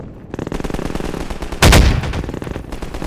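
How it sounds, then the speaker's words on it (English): Rapid automatic gunfire from Half-Life 2 rattles in a fast loud burst, then a single heavier blast cuts in before the firing continues, no voices over it. "somebody's firing, but they're not firing at me"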